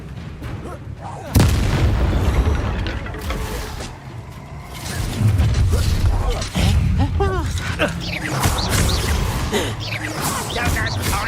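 Expelliarmus disarming spell cast in Hogwarts Legacy, a sharp blast followed by heavy booming impacts and clattering combat effects across the fight, with speech over the top.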